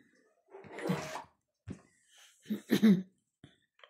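A few harsh coughs and throat-clearing sounds in a quiet room, a long rasping cough followed by several short bursts.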